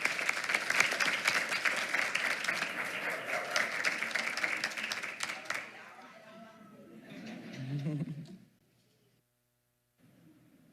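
An audience applauds a district teacher of the month at a ceremony: dense, steady clapping for several seconds that gradually thins, then fades to near silence.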